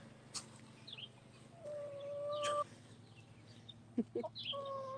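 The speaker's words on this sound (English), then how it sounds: "These are leghorns right here, these white birds with the floppy comb." White Leghorn chickens clucking and squawking in a quiet barnyard, a few short calls scattered over a low steady hum, with some sharper squawks near the end.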